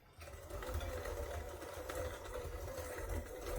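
Butter and white sugar are mixed together with an electric mixer, a steady close motor whir that starts abruptly and holds at an even level with a slight waver, with no talking.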